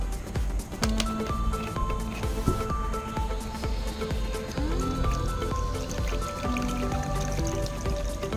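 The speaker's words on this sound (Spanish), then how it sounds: "Vamos a ponerle vinagre." Vinegar pours over rusty metal with liquid dripping, splashing and fizzing, loud and close, dense and steady throughout with scattered sharp drip ticks.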